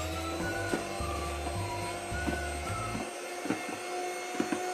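An electric beater whips eggs for a vanilla sponge cake, giving off a steady loud motor whine with a low pulsing hum that drops away partway through while the high whirr continues.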